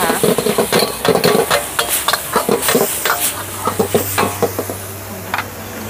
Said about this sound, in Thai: เรามาดูการผัดต่อนะคะ